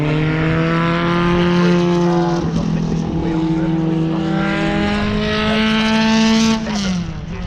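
A historic Grand Prix racing car in qualifying at Donington Park passes nearby, its loud engine holding a steady high note, dropping in pitch as it goes by, then fading near the end.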